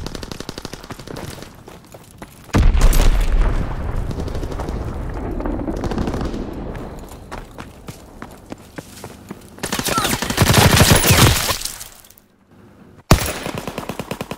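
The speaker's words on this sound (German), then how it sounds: "Feindliche Bombe im Anflug." Enemy bombing and gunfire in Call of Duty WWII, loud bursts of machine-gun fire and booming blasts in several heavy surges separated by quieter stretches, with a voice speaking at times.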